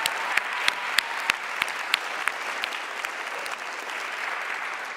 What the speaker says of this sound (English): So let's give the winners a round of applause.